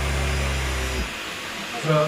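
A Hoover H Upright 500 Plus vacuum cleaner with floor sensor runs with a loud steady whine, cuts off abruptly midway, then spins back up at the end, with brief speech.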